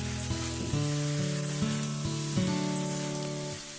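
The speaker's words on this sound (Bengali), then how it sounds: "ভালো করে আমি নাড়াচাড়া করছি" Ridge gourd sizzles in a hot pan with salt and chili powder as it is stirred, a steady close frying hiss broken by short scraping strokes of the spatula.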